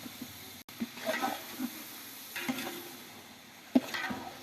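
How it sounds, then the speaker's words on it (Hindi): Chicken frying in a pan with salt being stirred in, a soft close sizzle broken by a few scraping stirs and sharp spoon knocks, fairly quiet overall. "चिकन को अच्छी तरह से फ्राई कर लिया हमने"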